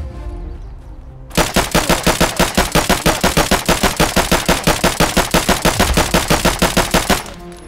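A single long automatic burst from a gun fed by an 84-round magazine in Escape from Tarkov, very loud and close, with rapid evenly spaced shots running about six seconds before stopping abruptly.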